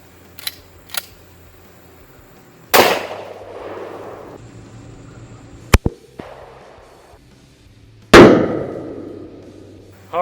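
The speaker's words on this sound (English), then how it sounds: "First shot is with this Kunin 357 Magnum with the 150 grain bullet." A Kunin .357 Magnum revolver firing a 150-grain bullet at paper plates outdoors, with one loud sharp crack near the start, a second heavy report later, and a few small clicks and clanks between them. No one speaks.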